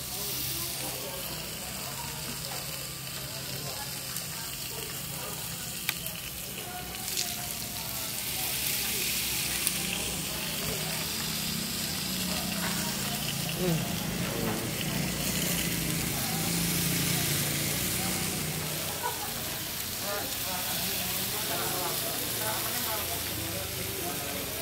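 Beef steak sizzling in butter on a hot griddle at a busy steak shop, a loud steady frying hiss with bursts of spitting, under voices talking throughout.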